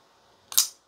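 A Kizer Begleiter 2.0 folding knife locks its blade open with one sharp, close click, alone in a quiet room.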